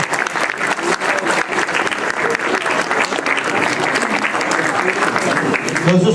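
Club members applauding at a New Year's greetings gathering, a loud, dense burst of many people clapping close by that swells slightly near the end, with some voices mixed in.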